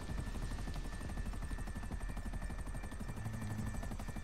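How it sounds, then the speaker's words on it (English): Steady, loud helicopter rotor chop with rapid even blade thumps and a continuous engine whine, heard in a video game, close and dominant throughout with no talk over it. "helicopters."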